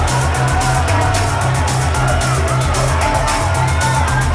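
A WWE wrestling video game arena crowd roars in a loud, continuous wash of cheering and hubbub that never lets up, with the steady swell of many voices filling the space.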